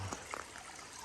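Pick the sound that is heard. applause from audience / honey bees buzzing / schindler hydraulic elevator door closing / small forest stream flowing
small forest stream flowing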